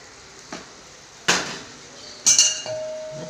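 A metal lid clanks down onto a pot of vatha kuzhambu, with two sharp close clinks over a quiet simmering background and no speech.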